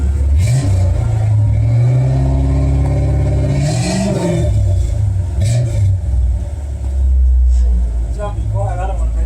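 A boxy Chevy with a newly fitted exhaust revs several times nearby, its loud, deep engine note rising and falling in swells, with people talking over parts of it.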